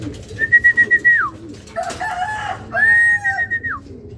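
Racing pigeons being readied for a derby give two drawn-out warbling calls with fluttery pulses between them, close and clear with no talking.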